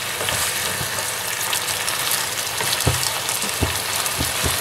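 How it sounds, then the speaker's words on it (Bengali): Chicken frying in oil in a pan after the water has cooked off, a constant loud crackling sizzle with a few sharper pops and stirring knocks, close up and without speech. "এবার কিন্তু জলটা শুকিয়ে এসেছে, তেলে জাস্ট ফ্রাই হচ্ছে"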